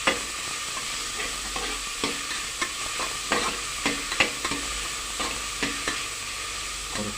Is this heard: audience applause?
no